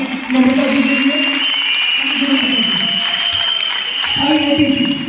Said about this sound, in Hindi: एक बार जोरदार तालियां नम्रता जी के लिए।